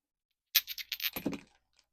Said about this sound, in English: Let's roll the dice first.